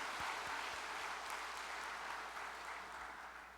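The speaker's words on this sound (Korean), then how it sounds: "우리 전심 성가대에게 감사의 박수를 한 번 더 보내주시면 고맙겠습니다." A church congregation gives the choir a round of applause, steady clapping heard from some distance that gradually fades toward the end.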